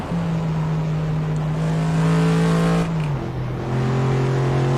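A simulated car in the racing game Assetto Corsa hums along at a steady engine drone that drops in pitch midway as the revs fall, then settles again; continuous and close, with no voices over it.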